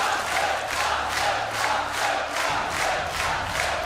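Polish crowd at a StarCraft 2 tournament cheering in a steady, loud roar that swells and pulses rhythmically, with no voices standing out.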